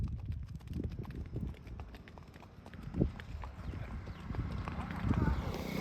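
A mare gallops away with loud clip-clop hoofbeats that come and go, louder near the middle and end, while people talk and shout over them.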